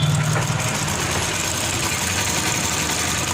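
A sewing machine running a line of stitching on kurti fabric, a steady, fast mechanical whirr that holds at an even level throughout, close and fairly loud.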